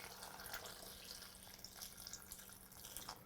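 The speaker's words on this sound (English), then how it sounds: "I'm just going to pour in the Rejuvelac enough to cover." Rejuvelac liquid poured steadily into a blender, a quiet continuous trickle and splash lasting a few seconds with no talking.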